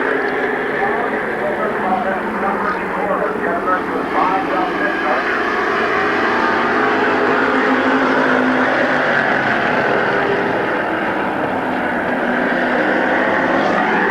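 Race cars circle Midvale Speedway in 1991, a steady loud roar of engines from the pack as an announcer talks continuously over it.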